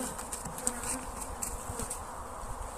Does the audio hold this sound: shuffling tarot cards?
no